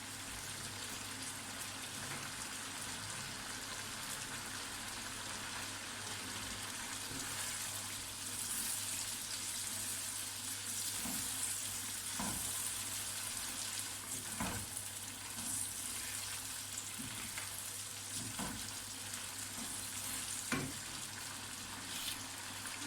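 Green chillies frying in the oil of a home-style chicken curry (salan), giving a steady, close sizzle and crackle that runs unbroken, with a few soft stirring knocks and no talking.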